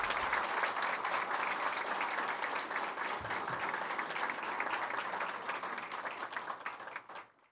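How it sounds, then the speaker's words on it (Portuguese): A room at a Barretos city council ceremony applauds the council staff, brisk clapping from a modest crowd that runs steadily for several seconds before tapering off at the end. "uma salva de palmas para quem fica anônimo aqui"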